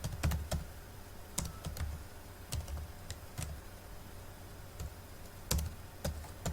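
Keys clatter on a computer keyboard in quick irregular bursts of clicks with short pauses, close and fairly quiet, with no talking.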